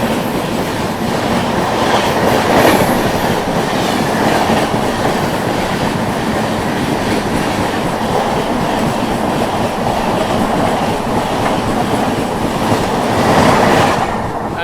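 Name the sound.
Bihar Sampark Kranti Express train passing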